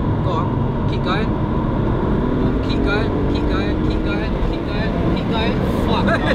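A turbocharged 530 bhp BMW F80 M3 accelerates hard with traction control off, its engine roaring loudly and steadily under excited talk from inside the car.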